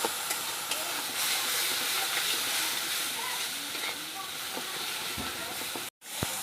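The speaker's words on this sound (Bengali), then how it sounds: "এই পেস্টটাকে দিয়ে এখন আমি পেঁয়াজটাকে ভালো করে কষিয়ে নেবো" Onion cooking down with a garlic, tomato, chili and ginger paste in a pan, giving a steady, close hiss and sizzle with scattered scraping stirs before a brief cut near the end.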